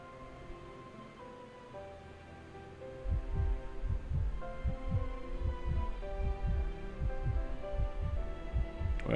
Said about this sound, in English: Well, I was hearing the heartbeats.